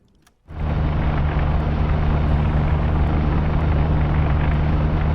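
A wartime airplane roars in the UBOAT submarine game, a loud steady engine drone that swells in within the first half second and holds without a break.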